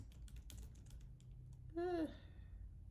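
Quick, light keystrokes patter on a computer keyboard in a quiet room, followed by a brief tonal voice-like sound.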